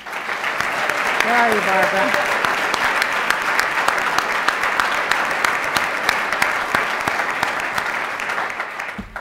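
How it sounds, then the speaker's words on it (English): Steady, full audience applause in a large downtown Orlando hall welcomes the new Orange County Public Schools superintendent, sustained for several seconds while a voice speaks briefly over the clapping. "would you join me in giving a warm round of applause"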